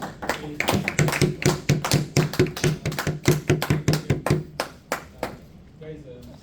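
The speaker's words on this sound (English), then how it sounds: "Give a round of applause." Audience applause following a presentation in a meeting setting, a burst of many hands clapping that holds steady for several seconds, then thins out and fades as a few voices begin talking.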